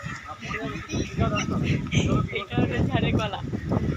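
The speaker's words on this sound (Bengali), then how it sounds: "এটা হাঁস" Ducks quack repeatedly in short nasal bursts, close by, mixed with an excited voice talking over them and some outdoor background noise.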